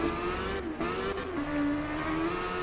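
Honda CBR 1000RR superbike in the racing game RIDE, revving hard as it accelerates out of a corner, a loud continuous engine whine with pitch dips at gear shifts and a brief tire squeal, no voices.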